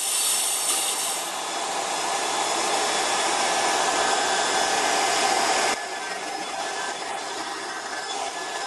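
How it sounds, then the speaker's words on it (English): Compressed air hisses steadily from the fill line of a SMACO HPA portable compressor as it is bled, a loud continuous rush that drops in level partway through, with no talking. "you're gonna bleed the air from here before you disconnect the hose from the fill port"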